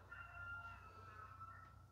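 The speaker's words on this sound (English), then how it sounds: "Cue the rooster." Rooster crow sound effect, a drawn-out faint crowing call over a low steady hum, with no voices.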